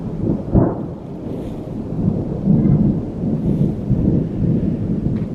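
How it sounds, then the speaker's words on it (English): Powerful thunder rolls and rumbles deep and loud, opening with a sharp crack before settling into a long, heavy roar. No voices. "That is like some powerful thunder."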